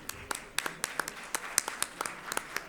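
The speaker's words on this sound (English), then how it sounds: "I want to see the big round of applause for all the panelists and the moderator, please." Scattered hand claps ring out in a loose, uneven burst, a small crowd clapping at moderate volume with some murmuring beneath.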